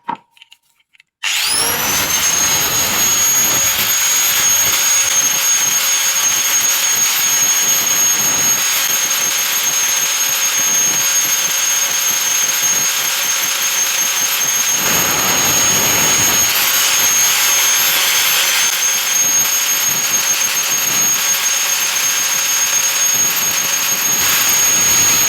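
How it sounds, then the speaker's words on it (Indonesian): The sharp edge of a PVC pipe being smoothed while making a small speaker horn gives a loud, continuous high-pitched whine with gritty rubbing. It starts abruptly after a short pause and then holds steady, with no talk. "Kita haluskan dengan amplas."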